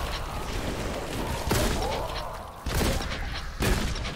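Shotgun blasts boom in a horror video game, several heavy, sharp reports spaced about a second apart over a loud, dense backdrop of game noise.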